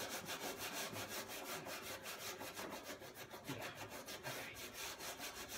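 A scouring pad scrubs a greasy, fat-crusted outdoor BBQ grill in steady back-and-forth strokes, a close, continuous rasping with a regular rhythm and no talk.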